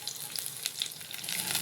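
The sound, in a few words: garlic and green chili frying in oil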